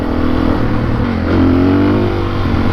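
A Suzuki DRZ400S dual-sport motorcycle accelerates hard as its rear wheel breaks loose, the single-cylinder engine revving loud and close with a rising pitch midway through.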